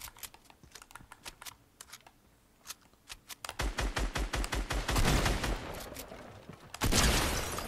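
Fortnite pump shotgun and other gunfire in a solo battle royale match, a run of sharp clicky shots that builds into dense, loud bursts near the end, with no talk.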